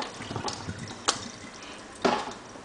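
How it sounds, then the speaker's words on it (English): Hot water drains from microwaved, softened celery, with faint trickling and a few distinct splashes and drips at irregular moments. "once the celery is done, I'm just going to drain it from the water"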